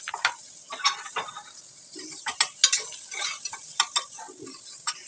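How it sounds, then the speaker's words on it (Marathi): Sliced onion frying in oil with whole spices, heard as light sizzling punctuated by sharp, irregular clinks and scrapes of a spatula against the pan, close and clear. "कांदा उभा चिरून घेतला, एक कांदा, आणि तो पण फ्राय करून घ्यायचा त्यात"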